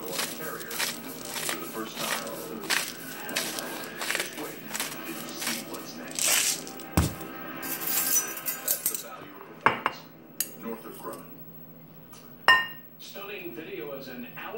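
Himalaya salt is ground by hand, an irregular series of crunchy, clinking scrapes and taps up close, with some sharper knocks toward the end and a person talking at times.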